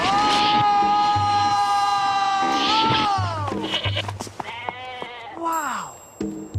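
A sheep in a Sinai wilderness scene gives several loud, wavering bleats in a row, close up, with short gaps and a low background hum between calls.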